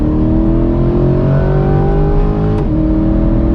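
A Corvette C8 engine pulls hard from inside the car, rising loud and close, with a brief dip as it shifts before climbing again.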